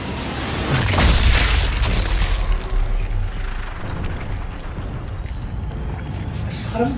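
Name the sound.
explosions in shooter video game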